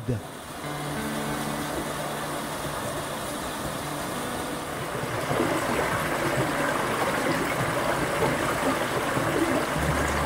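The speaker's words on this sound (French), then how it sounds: "ses ravins mystérieux où coule une eau limpide" Clear water running through a ravine stream in the Basque hills of Ursuia: a steady, dense rushing wash that holds at a constant level and swells slightly midway, continuous with no voices heard.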